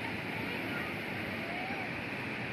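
Surf at Pantai Jetis beach in Cilacap rolls as a steady, broad wash of waves mixed with wind noise, constant and fairly soft throughout.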